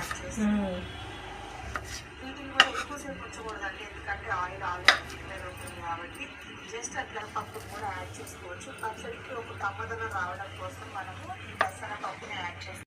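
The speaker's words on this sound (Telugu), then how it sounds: "వాక్కాయలు. కట్ చేస్తున్నా." Karonda berries (vakkaya) being cut for pickle, a run of small, close knife taps and clicks against a board, irregular in rhythm, with a few sharper knocks, under steady background hum.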